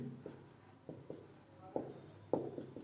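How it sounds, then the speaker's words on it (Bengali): A pen writing on paper during a math lesson, soft close scratching strokes with a few sharper taps as marks are made, faint and quiet with no talking. "পরের লাইনে লিখব"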